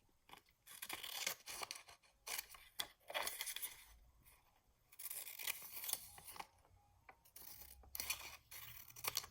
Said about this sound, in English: I'm going to go ahead and cut that out